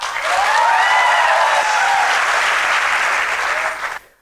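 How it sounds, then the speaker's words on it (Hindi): Seminar audience of students breaks into loud, dense applause, a sustained roar of many hands clapping close by that stops abruptly at the end. "बोलने से पहले अगर ऐसी तालियों की गड़गड़ाहट सुनाई दे जाए"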